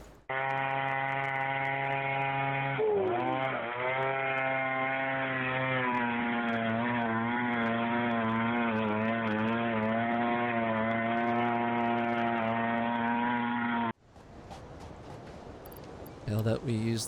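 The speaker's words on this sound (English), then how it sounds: "we craft our chainsaw and go on a little bit of a massacre" Chainsaw in the video game Satisfactory cutting down trees, a steady loud buzzing engine drone that holds for about fourteen seconds with slight pitch dips, then cuts off abruptly.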